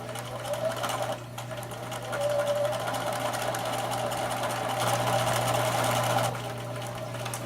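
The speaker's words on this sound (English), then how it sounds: "Then it's time to sew the hem on the skirt." Sewing machine stitching the hem of a doll skirt, a steady close mechanical whirr with a rapid needle rhythm that pauses briefly near the start and runs a little louder through the middle.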